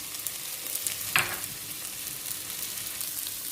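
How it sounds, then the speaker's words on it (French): Chopped garlic and onions frying in a pan for a plum chutney, a quiet steady sizzle with one brief louder crackle from stirring partway through. "On continue de faire revenir 1 à 2 minutes."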